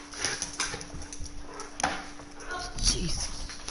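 A pup whimpering and giving short yips in a room, several brief high cries scattered over a few seconds amid people talking.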